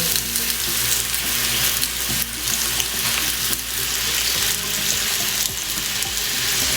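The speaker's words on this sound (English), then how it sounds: "Takes 5 minutes to cook this slice of potato." A potato slice fries in a pan with a loud, steady sizzle that lasts throughout, with faint stirring or clatter underneath and no talking.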